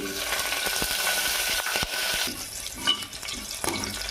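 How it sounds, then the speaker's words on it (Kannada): Bay leaf, black pepper, cloves and chillies fry in hot oil for jeera rice, a moderate steady sizzle with a few spoon scrapes and light clinks against the pan. "ಈಗ ನೋಡ್ರಿ ಸ್ವಲ್ಪ ಮೆಣಸಿನ್ಕಾಯಿ ಫ್ರೈ ಆಗೋ ಮಟ್ಟ ಒಂದು ಸ್ವಲ್ಪ ಚೆಂದಾಗ ಕೈ ಆಡಿಸ್ಕೋಬೇಕಾಕತ್ರಿ."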